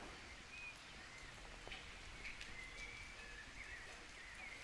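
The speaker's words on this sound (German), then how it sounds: "Es regnet in Strömen und es wird nicht aufhören." Steady rain falls during a cold downpour on an Italian cycling trip, a continuous soft hiss of drops on surfaces, moderately faint and without talk.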